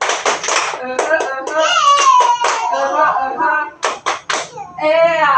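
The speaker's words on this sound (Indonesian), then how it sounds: "Tepuk semangat" Students in a classroom doing a rhythmic Indonesian spirit clap (tepuk semangat), with sharp clustered claps and a children's chant in patterned bursts, loud and close, pausing briefly near the end before the last claps and voices.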